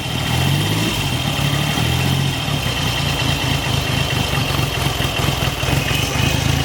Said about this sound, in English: seems to be fine at tick over